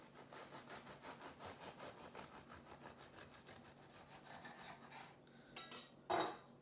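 A knife saws through a loaf of cooled, moist flaxseed bread in quiet, rhythmic rasping strokes, followed by a couple of louder clatters at the end, with no one speaking.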